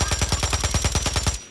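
Fortnite match gunfire, a steady rapid automatic burst of about a dozen evenly spaced loud close shots that stops abruptly.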